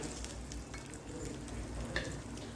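Semolina (rava) frying in hot ghee for upma gives a steady, soft sizzle with light stirring scrapes, close and unbroken, with no talk over it.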